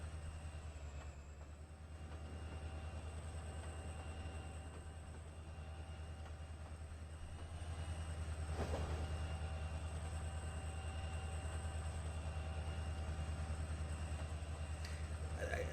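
Long freight train in Trainz Simulator 3 on the CN Holly Sub, a low steady rumble of rolling rail cars with faint metallic ringing and occasional clatter, quiet and continuous.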